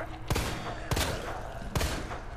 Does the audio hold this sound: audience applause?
no